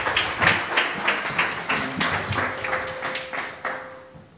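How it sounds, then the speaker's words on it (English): Audience applause welcoming a speaker onto the stage at a panel event on artificial intelligence and sustainable development goals, a steady patter of clapping that swells early then gradually thins and fades out. "with a warm applause"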